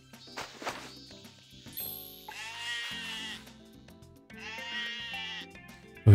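Sheep in the farming video game Harvest Moon Light of Hope give several loud, wavering bleats in a row, set against light background game music and small clicks.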